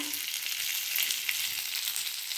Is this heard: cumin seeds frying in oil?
yes